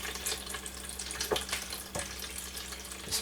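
Water gently poured into the water bath around a flan pan of custard, a steady, close trickle and splash running throughout with small bursts of spatter, heard alone.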